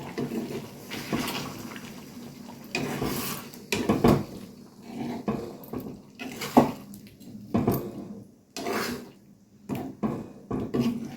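Mutton with fried potatoes being stirred and sautéed in a pot for mutton kosha, with repeated scraping and clanking of a spoon against metal in irregular bursts, close and clear, mixed with a soft sizzle.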